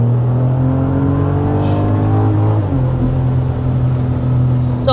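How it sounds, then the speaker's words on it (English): BMW X3 M50 with its B58 engine and the synthetic cabin sound turned off, a steady loud drone that climbs in pitch as it accelerates, eases briefly around the shift, then pulls on again, heard from inside the cabin. "so obviously it still has a nice sound to it because it's a B58"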